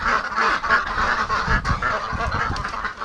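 Breeding ducks call with steady, hoarse honking quacks up close, a dense overlapping flock chorus kept up for several seconds as they are chased from a shed.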